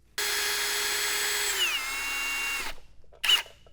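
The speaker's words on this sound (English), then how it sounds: "I'm just going to take this 1/8 inch drill bit here and drill out right where the crack ends." A power drill with a 1/8 inch bit whines loudly and steadily, its pitch dropping as the bit bites into the end of a crack in a cast iron engine block, then stops before a brief second burst.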